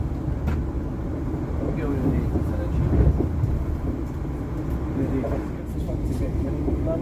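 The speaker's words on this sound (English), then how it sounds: "going for a little bit of a train ride, leaving London." A passenger train leaves London bound for Southampton. A steady low rumble and rattle of the carriage carries throughout, with faint voices in the background.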